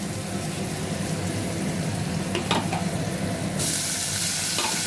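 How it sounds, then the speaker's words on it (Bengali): Steady sizzling of garlic frying in a pan, with a brief stirring scrape midway and a brighter hiss near the end. "রসুনটা একটু ভাজা ভাজা হচ্ছে"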